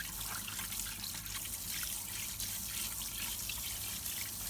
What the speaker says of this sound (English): Use running water to remove any dirt trapped in its ridges and grooves.